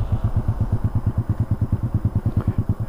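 A Rusi Rapid motorcycle running with no silencer idles nearby, a loud, raw, rapid and steady putter of exhaust pulses with a slightly uneven beat.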